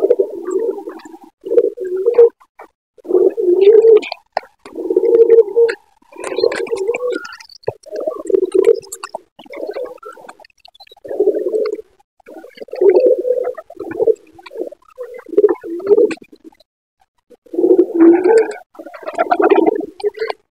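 Lakkha pigeons coo inside a cage, with repeated low, throaty burbling calls in short bursts separated by brief pauses, close and fairly loud, with no talking.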